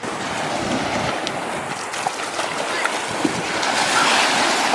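Ocean waves in the sea, a steady broad wash of surf with wind buffeting the microphone and soft splashes, loud and continuous throughout.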